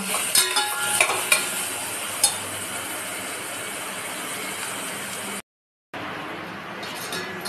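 Spice masala being stirred and sautéed in a pan for whole masoor pulao, a steady close sizzle with scraping stirs and a few clinks of the spoon, no talk, cut by a brief silent gap near the end.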